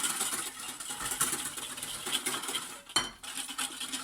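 Spoon clinking and scraping in a bowl while milk and cream are stirred into a chocolate pain perdu mixture, a steady run of small metallic taps with one sharper knock near the end.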